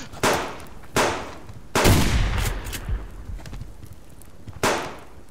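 Gunshots ring out in the multiplayer video game Subsistence: four or five sharp, loud reports at uneven intervals, one followed by a longer rumbling tail.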